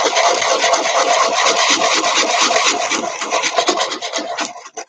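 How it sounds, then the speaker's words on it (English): Sandpaper rasps steadily against a homemade wooden handle for a sliding door, a loud, continuous scratchy rubbing in quick back-and-forth strokes that thins out and stops near the end. "Like this is how good the sandpaper is for shaping."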